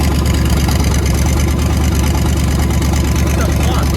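Burnout truck engine running loud and rough with a wobbling flywheel, a dense, steady mechanical roar filling every moment with no breaks.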